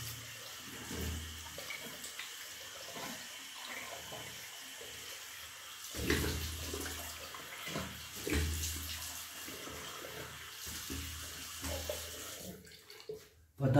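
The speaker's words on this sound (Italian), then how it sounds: "Iniziamo a sciacquarci la faccia." Running tap water in an Italian bathroom as someone rinses their face before shaving, a steady hiss of flowing water with splashing bursts and breaks, fairly close, with brief handling noises.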